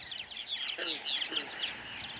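Purple martins give rapid, chirpy alarm calls in quick overlapping bursts, fairly faint against a quiet outdoor background.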